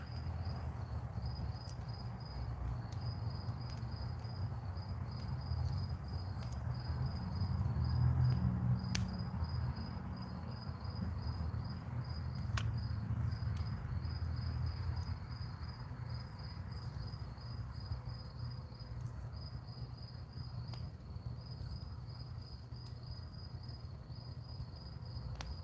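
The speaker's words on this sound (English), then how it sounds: "Hear the crickets in the background and the crackling of wood." Crickets chirp in a steady pulsing trill over a low outdoor rumble, with scattered sharp pops and snaps from a burning wood fire.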